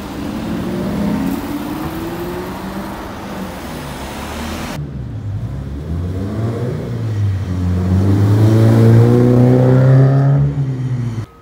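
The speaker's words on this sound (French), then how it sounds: "On a cette Aston Martin V8 Vantage." An Aston Martin V8 Vantage revs loudly nearby, its engine note rising and falling in sweeps, then building to a strong sustained rev before cutting off sharply at the end.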